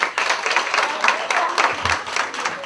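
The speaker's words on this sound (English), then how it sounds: "Give me a hand clap." An audience at a leadership training session claps along, a dense run of hand claps close by with a voice briefly heard amid the clapping.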